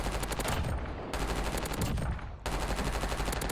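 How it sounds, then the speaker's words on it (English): A C9 submachine gun in a Warzone firing range rattles off long, rapid, continuous bursts at close range, broken by two short pauses between strings of fire. "we've got the C9 in the firing range now. It shoots really straight, kills really fast, and does a lot of damage"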